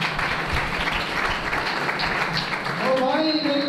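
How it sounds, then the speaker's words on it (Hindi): Applause in a church congregation, a dense patter of clapping at moderate loudness that carries through most of the moment before tapering as a voice begins speaking near the end. "जोरदार तालियां बजाएं।"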